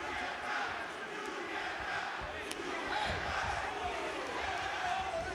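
A wrestling crowd at an AEW event chants steadily at Max Caster, a dense, continuous roar of many voices filling the arena without pause.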